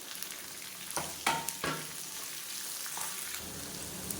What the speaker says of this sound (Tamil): இப்போ வெங்காயம் லேசாக வதங்க ஆரம்பிச்சிருச்சு